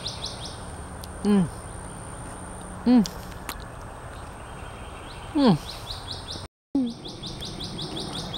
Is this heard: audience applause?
no